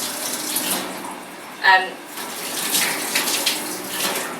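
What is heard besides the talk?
tap water rinsing hands during surgical scrub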